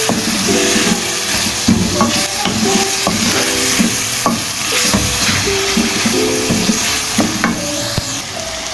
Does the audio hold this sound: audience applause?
no